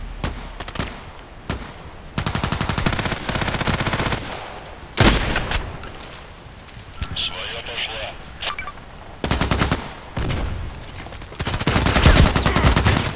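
Gunfire in the online shooter game Contract Wars: repeated bursts of rapid automatic fire, loud and close, broken by short pauses and single shots, alongside occasional game beeps.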